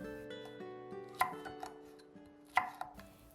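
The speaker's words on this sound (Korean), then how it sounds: "대파와 붉은 고추는 어슷하게 썰어주세요" A knife chops green onion and red chili diagonally on a board, giving a few sharp, distinct knocks spaced unevenly over a few seconds, close and fairly quiet, with no talking.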